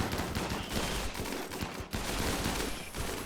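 Turrets fire in the RimWorld video game, a dense, continuous barrage of loud gunfire with overlapping rapid shots throughout.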